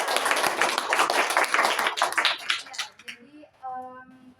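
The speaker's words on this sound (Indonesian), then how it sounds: "tepuk tangan dulu untuk Raisa" A classroom of students claps for a classmate after a microteaching session, a dense burst of close hand claps lasting about three seconds before fading out, followed by a brief spoken voice.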